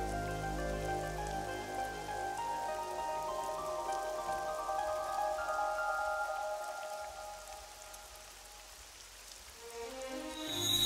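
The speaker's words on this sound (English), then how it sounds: "It's raining." Rain falling in the video game Ai: The Somnium Files, a steady patter spread over a tonal musical background, with no speech, holding fairly even before swelling slightly at the end.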